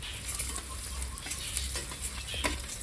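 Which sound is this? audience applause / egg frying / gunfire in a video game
egg frying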